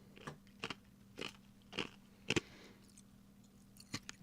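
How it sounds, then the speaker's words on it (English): Someone chews ice, with a series of sharp, close crunches at an irregular rhythm, a few loud bites standing out over a faint steady hum. "Chewing on ice"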